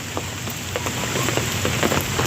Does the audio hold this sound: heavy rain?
yes